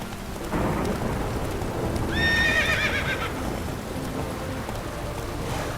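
A horse from the video game The Witcher 3 gives a bright, rising whinny midway, over a steady rumbling wash of hoofbeats and rain-like noise that runs the whole time.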